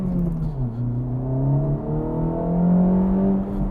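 A 2026 Acura Integra Type S on Michelin Pilot Sport 4S summer tires drives along, its engine humming from inside the cabin. The pitch climbs and dips through gear changes, and the sound stays moderate and steady.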